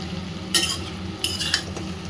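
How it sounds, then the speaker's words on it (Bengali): Cabbage with turmeric and fenugreek being stirred in a hot pan, a soft steady sizzle broken by a few scraping clinks of the spoon against the metal. "এবার আস্তে আস্তে বাঁধাকপিটা দিয়ে দেবো"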